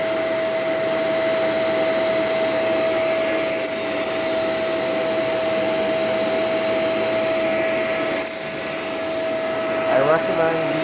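A Shark Rotator Professional swivel vacuum cleaner runs steadily indoors with a loud, constant motor whine and airy rush, shifting slightly as it moves across the floor.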